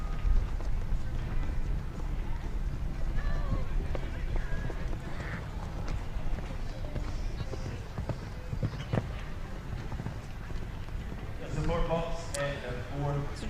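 A horse canters at a forward pace through a 1.45m CSI 2* speed show jumping round, with a steady rhythmic beat of hooves on arena footing under an announcer's commentary.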